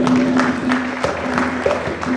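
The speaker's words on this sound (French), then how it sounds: "Est-ce qu'on peut applaudir pour lui, s'il vous plaît?" Audience applauding at a public event, steady scattered clapping with a droning tone underneath and some voices mixed in.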